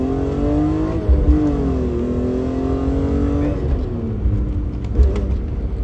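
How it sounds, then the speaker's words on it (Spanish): A modified 2005 BMW E46 M3 with a manual gearbox accelerates from inside the cabin, its engine note rising and falling steadily through the revs, loud and continuous with no talk over it. "Oye, él responde así."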